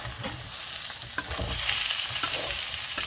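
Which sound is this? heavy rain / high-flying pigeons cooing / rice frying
rice frying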